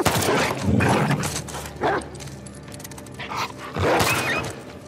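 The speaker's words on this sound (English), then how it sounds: "Dog." A dog barking in the video game No Return: several separate bark bursts at close to middle distance, spread across a few seconds over game ambience.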